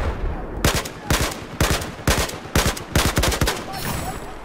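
Gunfire in Battlefield 4 multiplayer, with about seven loud, close bursts of automatic fire coming at roughly half-second intervals, a steady rattling rhythm over background battle noise.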